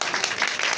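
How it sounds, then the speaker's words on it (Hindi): Students applauding in a Bihar coaching-centre classroom, a dense, steady burst of many hands clapping together, close and loud, lasting under a second. "इसके लिए भी ताली हो जाए।"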